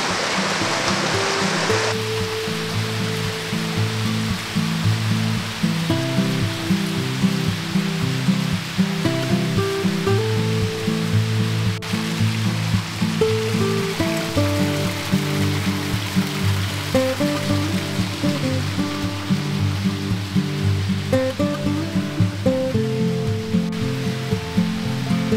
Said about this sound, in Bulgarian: На няколко места има още водопадчета.